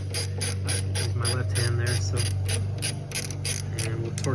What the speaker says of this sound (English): Use my left hand there, and we'll torque those down.